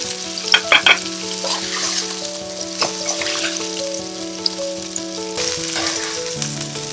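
Salmon fillet pan-seared in a pot, sizzling and frying steadily close to the mic, with a few sharp clinks of a utensil near the start; a faint tonal hum runs underneath and no one speaks.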